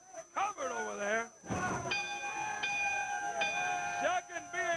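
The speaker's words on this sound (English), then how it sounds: "Referee says, ring the bell." A boxing-style ring bell at a Memphis professional wrestling match rings out in a few sustained, ringing strikes after a pin, standing clear over a murmur of arena background and a brief voice at the start.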